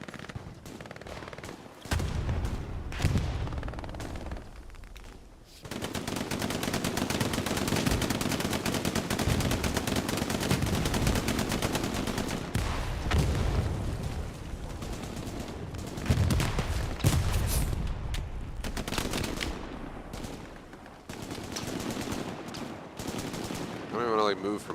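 Rapid machine-gun bursts, rifle shots and explosions in the World War II online shooter Hell Let Loose, with dense overlapping gunfire and brief lulls between volleys, and players talking over the battle.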